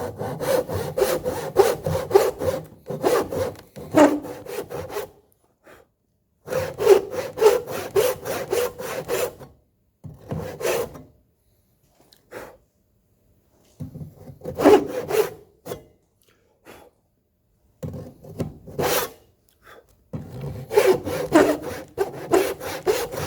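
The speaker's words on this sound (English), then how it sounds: "I'll make a few random relief cuts." A hand saw cuts relief kerfs into wood for an oil stone case, with loud, close, rhythmic push-pull strokes coming in several bursts separated by short pauses.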